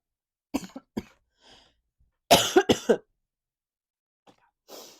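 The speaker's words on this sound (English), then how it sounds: "I think that's what's making me cough." A few short, dry coughs close up, then a louder burst of three quick coughs, followed by a faint throat sound in a quiet room.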